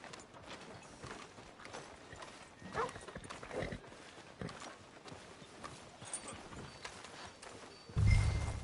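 Horse hooves in the video game Red Dead Redemption 2, a soft, uneven clip-clop of riding with scattered hoof strikes, ending in a louder low thud, with no talking.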